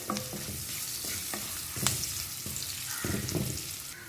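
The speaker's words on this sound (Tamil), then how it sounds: "இந்த பூண்டை வந்து நல்லா இந்த எண்ணெயில் கொஞ்சம் வதக்கிக்கலாம்." Steady sizzling of crushed garlic frying in oil for horse gram rasam, with scraping and stirring clatters from a utensil in the pan.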